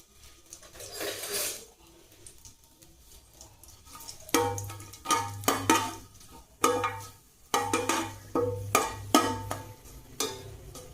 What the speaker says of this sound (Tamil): இப்போ நம்ம இதில் தாளிக்கிற பொருள் பட்டை, கிராம்பு, ஸ்டார் ஹனீஸு எல்லாம் போட்டு தாளிச்சுக்கலாம்.